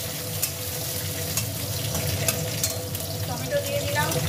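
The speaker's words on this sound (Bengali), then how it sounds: "আজকে শুধুই রসুন ফোড়ন দিলাম।" Garlic sizzles in hot oil as a tempering, a steady close crackle and fizz with scattered pops, faint movement in the background and no talk.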